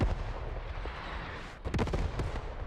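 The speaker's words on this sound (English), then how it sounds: "That artillery was well-placed." Artillery fire in a war video game, a steady rumble of distant bombardment that breaks into a close, loud burst of rapid explosive thuds and cracks near the end.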